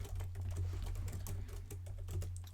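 Continuous rapid clatter of keys on a computer keyboard as Rust code is typed for an Advent of Code puzzle, steady and close over a low constant hum, no voices.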